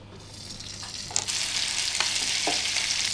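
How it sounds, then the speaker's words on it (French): Salmon fillet searing in a very hot pan, a bright steady sizzle that swells louder after a sharp contact noise, with a few faint clinks, close and without voices. "Alors toujours commencer la cuisson le plus à vif possible pour saisir le poisson."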